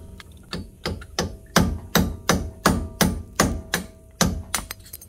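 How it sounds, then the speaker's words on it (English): A hammer drives a small punch to lightly tap a CV axle out of a Honda Pioneer 1000 side-by-side, giving about a dozen evenly spaced, close, crisp metallic taps in a steady rhythm, with no speech. "Here's a small punch. There she goes, just lightly tapping it out."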